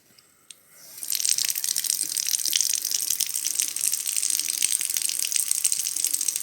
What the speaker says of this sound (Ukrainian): Ну, вода тече.